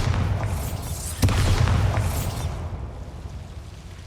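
Bombarda spell explosion in Hogwarts Legacy, a heavy boom that hits suddenly and then rumbles and fades with a long, noisy tail of debris.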